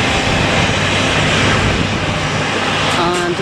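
From the open smoking deck at Madeira's Cristiano Ronaldo Airport, a Thomas Cook airliner bound for Manchester gives off a loud, steady engine roar that holds continuously, while outdoor wind noise runs underneath.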